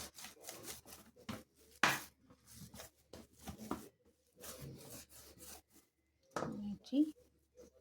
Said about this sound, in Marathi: गोल करून घेऊया या पद्धतीने रोल करून घ्यायचे आहेत